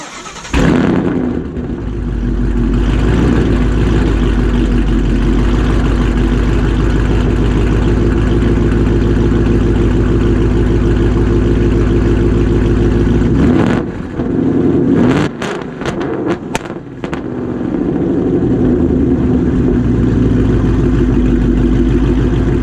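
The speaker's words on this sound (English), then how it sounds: "The car's already warmed up, so it won't be as loud, but you'll get a nice start." An already warmed-up car engine cranks and fires at the start, then settles into a loud, steady idle close by, with a burst of revving and crackling blips around the middle before it returns to idle.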